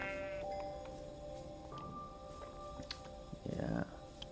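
A sheep bleats in Minecraft, a few short game bleats heard beneath a player talking, with a brief scuffling burst near the end.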